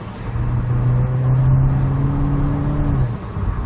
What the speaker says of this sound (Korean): 기아 변속 시에 그 웅 하는 소리가 싫다고 하시는데